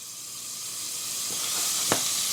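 Butter melting in a frying pan gives a soft, steady sizzle with faint hiss, broken by a couple of small pops and one sharper crackle near the end.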